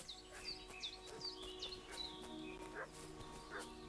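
A dog barks repeatedly at a distance in the medieval village of Kingdom Come Deliverance 2, its short yaps mixed with bright chirping birdsong in the background.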